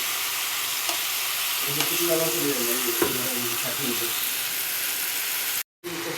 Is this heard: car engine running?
no